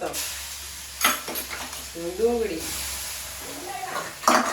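Mustard seeds, cumin, asafoetida, turmeric and garlic sizzle in hot oil for tempering a bottle gourd dish, a close, continuous frying hiss with bursts of stirring while a person talks over it.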